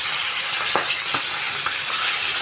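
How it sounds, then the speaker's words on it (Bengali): Fish frying in a pan gives a loud, steady sizzling hiss, with a few faint taps from stirring or turning underneath. "আজকে রান্না করব কমপ্লেট মাছ ভাজা"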